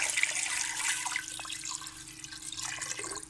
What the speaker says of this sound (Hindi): इसमें मैं डालने लगी हूँ पानी